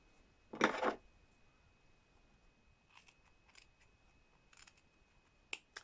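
Snips chop through fabric scraps while sewing a drawstring bag, one loud crunching cut near the start followed by a few faint, brief clicks and snips spread across the rest of the quiet stretch.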